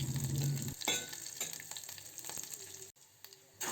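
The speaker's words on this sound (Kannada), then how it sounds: "ಸ್ವಲ್ಪ ಕರಿಬೇವಿನ ಸೊಪ್ಪನ್ನು ಹಾಕಿ ಫ್ರೈ ಮಾಡ್ಕೊಳ್ಳಿ" Green chillies and curry leaves sizzling in hot oil in a pan for millet pongal, a loud crackling burst that settles into steady frying with a brief stir and scrape.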